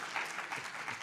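A conference audience at an inaugural session on regional health cooperation in Africa claps briefly: faint, distant scattered applause lasting about a second, with no voices.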